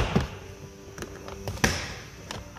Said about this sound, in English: unsnap the door panel